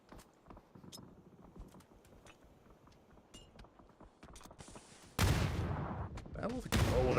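Grenade blast and gunfire in a PUBG pro scrims match: scattered pops and clicks give way to a loud, broadband explosion burst that sustains near the end, with a second sharp blast at the close; faint voices underneath.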